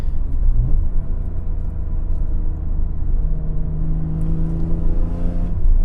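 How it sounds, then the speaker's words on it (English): BMW E46 M3 engine revving hard under load, its exhaust note rising steadily in pitch as the revs climb, loud and close with a continuous deep rumble and no talking. "Exhaust note, I love it."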